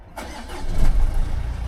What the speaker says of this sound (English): you want to be hearing a nice fired into life sound